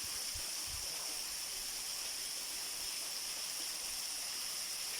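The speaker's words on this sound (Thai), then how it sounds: "น้ำตกครับ" Steady, broad rushing water roars without pause, a dense hiss of the Pha Rom Yen waterfall in Uthai Thani, Thailand, pouring continuously, with a couple of faint low thumps near the start.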